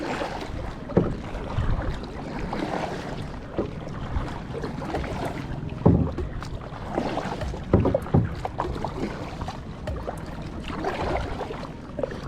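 Kayak paddles dipping and pulling through the water of a river at Kandassankadavu, Thrissur, with irregular splashes and strokes close by over steady wind and water noise.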